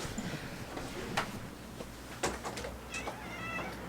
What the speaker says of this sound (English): My cat wanted in.